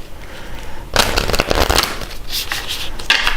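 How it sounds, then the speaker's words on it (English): Tarot and oracle cards are shuffled close up in bursts of dense riffling and crackling, with a short pause before another flurry of shuffles. "I love shuffling cards. It's so satisfying."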